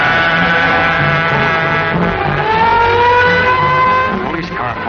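A car from an old Green Hornet serial drives fast, its engine whining and rising in pitch as it speeds along close and loud, with a few low voice-like sounds mixed in.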